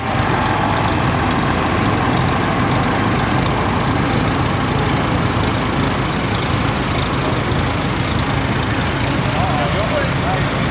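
A 1981 International Harvester 1086 tractor engine runs at a steady, loud, rumbling idle close by at a Red Power Round Up show, with an announcer talking over it.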